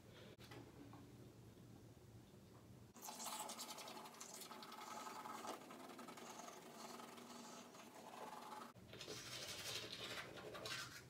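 Brushing teeth with a green toothbrush during a morning routine: a steady, close scrubbing rasp that runs continuously from about three seconds on, briefly pausing, then resuming, with no talk over it.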